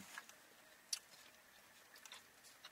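Someone chews a spicy, slightly dry chicken wrap close up, giving faint, soft, irregular wet crunches and bites with no talking.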